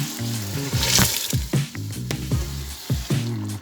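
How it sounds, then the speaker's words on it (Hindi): Leftover cooking water from urad lentils is poured into dhaba-style mash dal frying in a pan, giving a wet squishing sizzle with a few bubbling bursts, close and moderately loud with no talk. "जो इसका पानी बचा हुआ था दाल का कुक करते हुए वो इसमें डाल देंगे"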